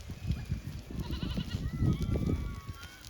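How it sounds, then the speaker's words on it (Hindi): Small goats bleating as they come back home in the evening after grazing, several overlapping calls close by over a steady background of farmyard noise. "बाकी जो छोटी छोटी बकरियां जो इस वक्त वापस आ चुकी है सरा में"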